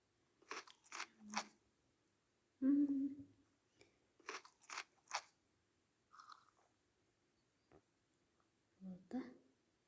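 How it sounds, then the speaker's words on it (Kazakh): Someone eating crunchy food, with several bursts of close crisp crunching and chewing separated by short pauses, with occasional quiet speech. "енді тамағымызды ішіп аламыз"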